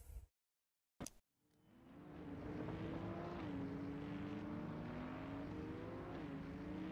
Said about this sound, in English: in that car it's really, really important to hear the RPMs rise and fall